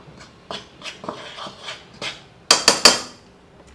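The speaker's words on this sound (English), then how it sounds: "And we just mix it a little bit." A spoon or whisk scraping and clinking inside a bowl while baking powder and dry cake ingredients are stirred together, a series of light taps followed by three sharper metallic knocks near the end.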